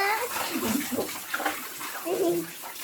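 Water sloshes and splashes as piglets get bathed for the first time, soft irregular splashes close by with people talking over them.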